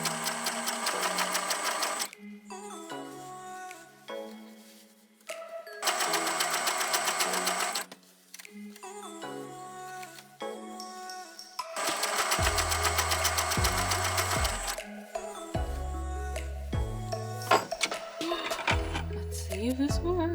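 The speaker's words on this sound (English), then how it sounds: "Let's go to the sewing machine." A sewing machine stitches the waistband of leggings in several loud, steady runs of rapid mechanical whirring, broken by short pauses with fabric handling and clicks between them.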